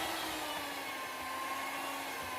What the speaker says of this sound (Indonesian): Selanjutnya saya gunakan mixer untuk mengaduknya ya, atau mengulennya ini.